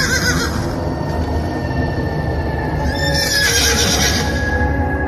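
Horses neigh and whinny over steady clip-clopping hooves, a continuous and fairly loud sound-effect scene with no voices.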